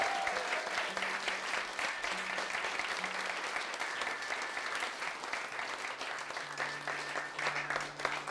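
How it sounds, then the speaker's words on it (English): Sustained applause from a concert audience, steady dense clapping across the whole stretch with a few faint tonal notes underneath. "let's give them a big round of applause for doing that kind of work"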